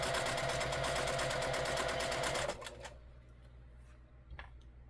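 A sewing machine stitches quilt blocks with a loud, rapid steady whir and needle chatter for about half the time, then stops, leaving a faint hum and a few small clicks.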